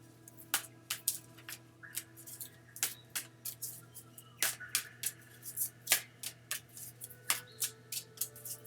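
Soul Journey oracle cards being shuffled by hand, a quiet close run of irregular crisp riffling snaps and flutters with no talking.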